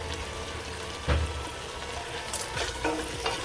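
Food sizzling loudly in a frying pan while being stirred, with a sharp utensil knock early on and a few scraping strokes over the steady crackle.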